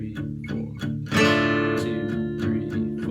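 Acoustic guitar strums the chords of the Saw theme in a steady rhythm, with sharp percussive strokes and ringing sustained chords, played up close.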